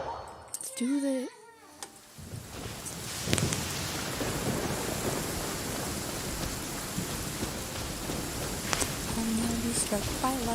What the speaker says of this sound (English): I'm gonna be struck by lightning.